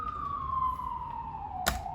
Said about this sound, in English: Forgive the sirens, my goodness, New York City, doing the most every single day of the week.